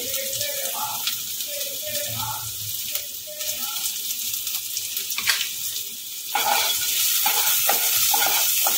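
Grated carrot being stirred and fried in a pan: a continuous sizzle broken by scraping stirs, with faint voice-like sounds in the background early on and a louder burst of frying near the end.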